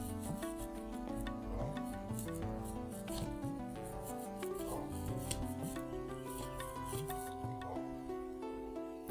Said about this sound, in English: So let's give it a quick scrub.